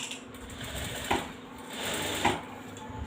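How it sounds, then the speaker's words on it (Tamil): A sewing machine runs a long, loose basting stitch across an embroidered blouse, a quiet, close mechanical whir with a couple of small clicks and knocks. "இப்போ வந்து தையலுடைய அளவை லைட்டாக கூட்டி வச்சுட்டு அப்படியே ஃபுல்லாகவே ரஃப் தையல் போட்டு எடுத்துடலாம்"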